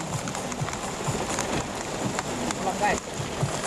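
Steady rain drums on a car parked at Istana Pagaruyung in Batusangkar, West Sumatra, heard from inside the vehicle as a dense, even patter with scattered louder drops throughout.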